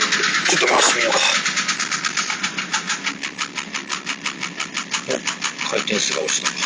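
Engine of a late Porsche 996 911 Carrera 4 with an abnormal-noise fault revs up, then settles into a rapid, steady pulsing idle with a metallic tick, close and loud.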